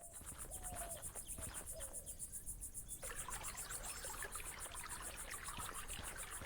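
A clear spring in the game Rosewater trickles softly and steadily beneath a dense, shrill chorus of crickets, faint and calm the whole way through.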